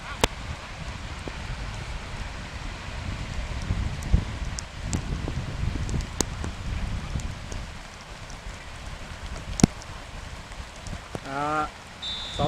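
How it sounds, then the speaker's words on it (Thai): Steady rain falls at an outdoor football match between a police team and a school team in Kham Thale So, a continuous wash of hiss and patter with bursts of wind and a few sharp knocks; faint voices sit under it. "ขณะนี้ฝนกำลังตกนะครับ"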